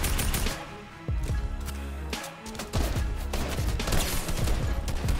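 Rapid gunfire rattles in the video game Fortnite, with loud bursts of automatic fire and repeated shots crackling in quick succession throughout the fight.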